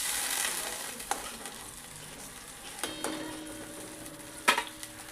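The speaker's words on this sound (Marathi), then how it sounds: "पाण्याला चांगली उकळी आली आहे." Salted water rolls to a boil in a pan, ready for roasted vermicelli upma, giving a steady close bubbling hiss with a few light clinks and taps.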